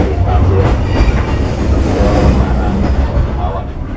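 KA 110 Brantas passenger train arriving at a station in Semarang, a steady loud low rumble of rolling wagons with faint wheel clatter throughout, no voices over it.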